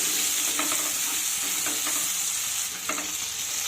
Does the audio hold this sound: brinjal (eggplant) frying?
yes